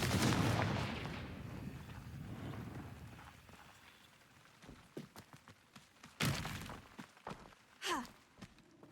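A Confringo fire spell cast in the Hogwarts Legacy video game bursts out as a loud whooshing blast at the start, trailing into a rushing rumble, followed by scattered sharp cracks, impacts and quick swishes.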